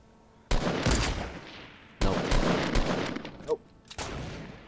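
Bursts of gunfire in Fortnite aimed at a bush, loud close volleys in three separate clusters with brief gaps between them.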